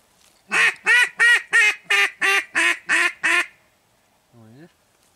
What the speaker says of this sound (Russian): отсюда еще две утки поднимаются